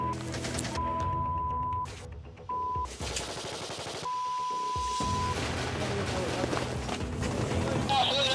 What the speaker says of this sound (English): the peacekeepers are woken by heavy gunfire